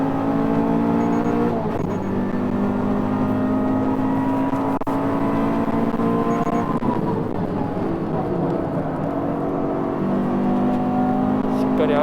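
A Toyota GR86 on Nankang CR-S tyres pulls hard at Tsukuba Circuit, its engine note rising steadily through the rev range as a sustained loud drone heard from inside the car, with a brief dip near a gear change and talk over it.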